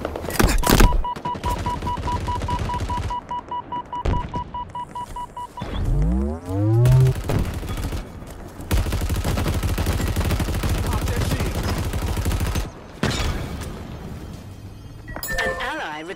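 Weapon fire in Halo Infinite online multiplayer, with long sustained rapid-fire bursts broken by short pauses, loud and close, alongside game effects and voice announcements.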